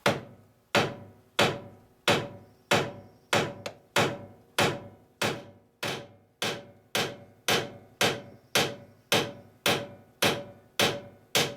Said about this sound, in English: all I have to do is just peen that over to keep that from falling back through the other side